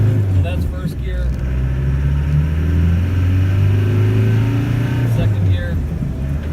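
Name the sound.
1993 Land Rover Defender 110 200tdi pulling away in first gear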